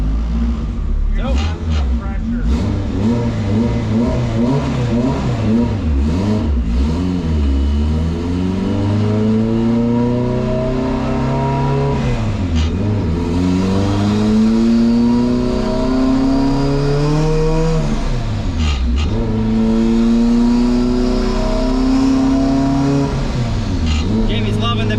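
A turbocharged car engine revs hard through repeated power pulls, its pitch sweeping up and dropping back several times. The sound is loud, close and continuous.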